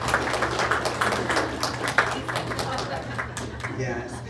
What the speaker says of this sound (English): students, can we give a round of applause to the parents?